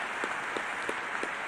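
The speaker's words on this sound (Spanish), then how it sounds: "Un aplauso para la Pichu." An audience at a political gathering applauds steadily, a wash of many hands clapping with a few louder, regularly spaced claps standing out near the front.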